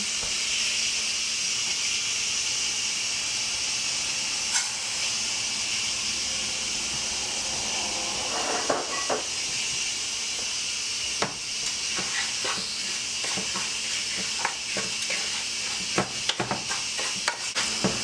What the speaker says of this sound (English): I'm gonna fry the rice until it gets golden brown